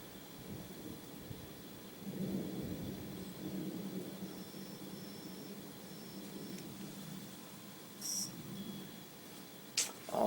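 Distant thunder from lightning strikes during a dry Texas storm, with no rain falling, rolls as a faint, low rumble for several seconds, followed by a couple of soft clicks.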